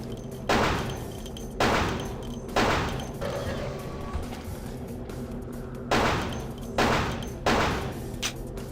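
Gunfire in the vampire action RPG Vampire: The Masquerade – Bloodlines: five or six loud, sharp shots spaced about a second apart, each with a booming decay, separated by a quieter ambient lull, with no talk.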